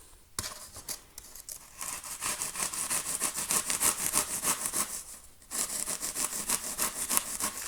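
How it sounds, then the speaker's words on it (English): A handsaw cuts through polystyrene for mosaic work, giving close, steady rasping back-and-forth strokes in a quick rhythm, with a brief pause partway through before the sawing resumes. "I'll use the saw for that one."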